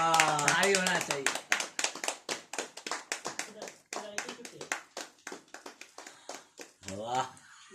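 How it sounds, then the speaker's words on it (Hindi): Rapid, rhythmic hand clapping right after someone gulps down a glass of juice in one breath, crisp and close, with voices speaking at the start and near the end. "ताली होना चाहिए सर, ताली, वाह, ताली होना चाहिए।"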